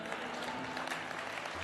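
An audience at a comedy and poetry show breaks into a brief, dense burst of applause that holds steady throughout.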